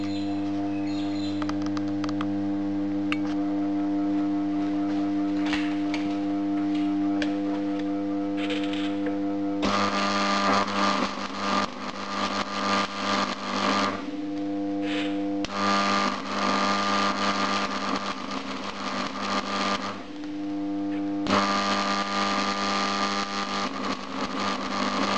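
An AC welder converted to DC output with capacitors and a choke strikes an arc three times, each a sustained crackling, sizzling burst of several seconds over a steady electrical hum that continues between welds.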